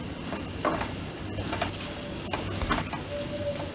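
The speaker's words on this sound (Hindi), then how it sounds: "अच्छे से इसे मिक्स करेंगे और अच्छे से भूनेंगे।" Amritsari paneer bhurji is stirred and fried in a pan: a steady, close sizzle with a few scraping ladle strokes, and no voices.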